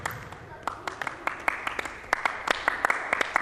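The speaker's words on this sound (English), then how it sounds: "Coach says stop clapping." Children clap their hands in a quick, uneven run of sharp claps during a coach-led game, with a voice speaking over the clapping.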